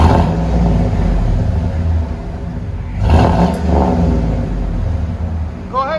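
Deep, steady rumble of a 2000 Chevy Suburban's 5.3L V8 through a Flowmaster Super 10 exhaust, loud and close, swelling briefly around the middle as the engine revs.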